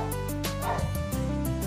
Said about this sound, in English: My dogs are being absolute brats at the moment, so you're probably going to hear that a hell of a lot.